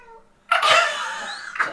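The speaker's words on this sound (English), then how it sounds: "I think that's my cat wanting to go out." A house cat lets out a short, close meow, loud and drawn out for about a second, with a second brief call at the end and nothing else heard.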